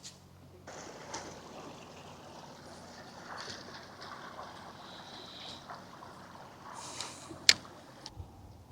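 A boat passes on the Grand Union Canal, its low, steady wash and engine murmur sitting faintly under outdoor ambience with a light breeze and a couple of brief knocks near the end.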